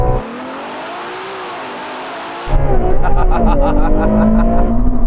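Ferrari cars, including a Purosangue, 812, SF90 and 296 GTB, launching in a drag race: a steady engine drone suddenly gives way to a loud, close surge of revving with rising and falling engine tones.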